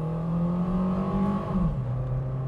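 A 2012 Nissan Livina X-Gear with the 1.8 engine and automatic gearbox accelerating, its engine droning steadily and rising slightly in pitch from inside the car, with no talking.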